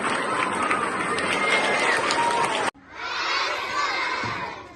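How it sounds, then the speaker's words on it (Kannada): A large crowd of schoolchildren cheers, shouts and claps loudly for their teachers at a school event, a dense, steady roar that cuts off abruptly and then resumes slightly softer. "ಇವತ್ತು ಜೋರಾಗಿ ಚಪ್ಪಾಳೆ ಕೊಡಬೇಕು ನೀವೆಲ್ಲ ಟೀಚರ್ಸ್ಗಳಿಗೆ."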